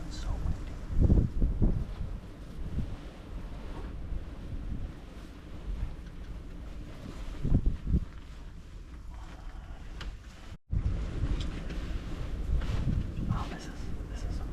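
Strong wind buffets the microphone on a bitter-cold Michigan deer hunt, roaring in heavy gusts with a brief dropout near the end, loud and close, with muffled talk beneath.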